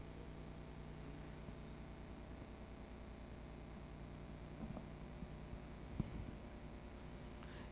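An electric fan hums in a quiet classroom, a faint, steady whir with a low mains-like drone that holds evenly throughout, broken only by a couple of small knocks near the end.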